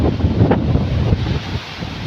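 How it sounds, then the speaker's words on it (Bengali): Strong wind roars and buffets the microphone at a seaport in a constant, rough rush, with heavy rain mixed into the noise. "বাতাস তীব্র বৃষ্টি এবং বাতাসের গতি খুব বেশি"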